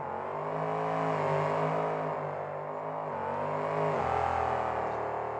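A monster truck engine at a 2003 monster truck show in New Orleans revs loudly and continuously while the truck spins donuts. The pitch swells and dips, then drops sharply near the end.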